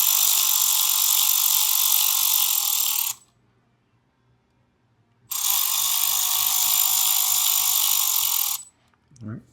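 Torx-head screws being driven into a 2024 Harley-Davidson Road Glide with a power driver, two steady whirring ratchet-like runs of about three seconds each, separated by a quiet pause, close and loud.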